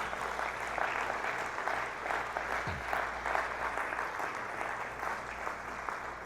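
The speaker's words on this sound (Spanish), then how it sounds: "Él se merece el mejor aplauso." A church congregation at a Wednesday worship service applauds steadily throughout, a dense, moderately distant wash of many hands clapping at an even level.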